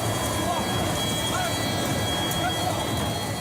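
A Transall military transport aircraft flies over a training range, a steady broadband engine roar filling the scene at a distance, with faint voices and background noise mixed in.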